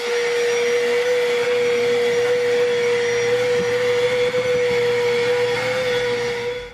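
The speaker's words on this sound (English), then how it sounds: "But we're gonna vacuum this out." A vacuum cleaner cleaning out a flood-damaged Mini Cooper S runs steadily and loudly throughout, its motor producing a constant high whine with a strong tonal hum and no talking.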